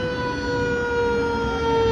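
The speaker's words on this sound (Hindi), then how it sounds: "कहीं तो फायर ट्रक आ रहा है, अभी देखो सायरन की आवाज आ रही है" A fire truck siren sounds as engines arrive at a building fire, holding a loud, steady multi-tone wail that fills the whole stretch with engine rumble beneath and no voices.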